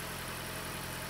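A Toyota Prius 30 petrol engine idles just after its EGR valve was cleaned, a short, smooth, even low hum heard close and alone.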